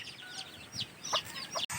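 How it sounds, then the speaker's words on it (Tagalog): Several domestic hens cluck in short, overlapping bursts at close range inside a backyard coop where they are laying eggs, with no voices heard. "Nagkasabay-sabay yung mga alaga namin ditong manok."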